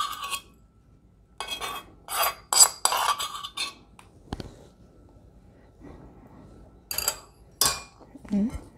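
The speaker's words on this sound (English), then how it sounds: "Just stir." Sabudana mixture being stirred with a utensil produces clinks and scrapes against the pot in irregular bursts, close by, with a voice speaking intermittently between the utensil sounds.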